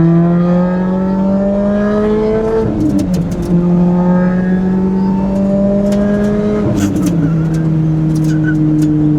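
A Lotus Exige S engine revs up to 7,600 RPM and holds a loud, steady, harmonically rich howl, twice dropping briefly between gears before climbing again, close and alone with no talk.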